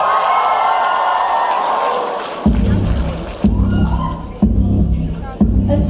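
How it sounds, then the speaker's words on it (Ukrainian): A crowd cheers and applauds at an anime and K-pop festival in Kryvyi Rih, loud and broad for about two seconds before heavy thumping music beats take over. "На цій сцені Елай, ваші оплески!"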